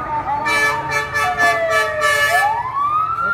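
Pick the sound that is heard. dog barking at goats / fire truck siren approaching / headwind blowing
fire truck siren approaching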